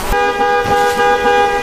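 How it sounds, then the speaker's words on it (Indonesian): A car horn sounds in one sustained, loud, close honk that holds steady for well over a second, bright and harmonic, with no other sound around it. "Mamang Botak mendengar suara klakson mobil"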